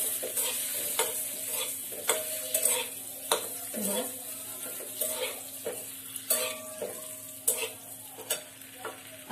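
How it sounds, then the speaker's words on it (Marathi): Boiled eggs frying in spiced masala for egg curry, a steady low sizzle broken by repeated clinks and scrapes of a spoon against the pan, close and without voices. "अशा प्रकारे आपल्याला अंडे छान सगळे फ्राय करून घ्यायचे आहेत।"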